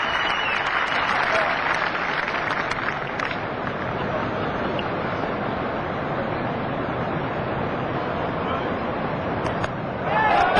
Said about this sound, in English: the crowd applauded